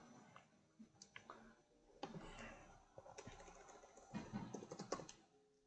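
Fingers typing a password on a computer keyboard, a faint, quiet run of irregular key clicks and taps in a hushed room, with soft background noise.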